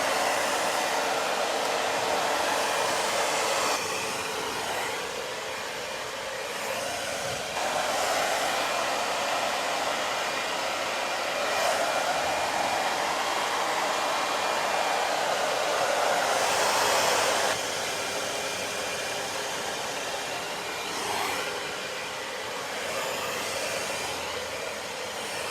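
A hair dryer blowing loud and close over styled hair during a live barbering demo, running continuously with shifts in pitch and intensity as it moves.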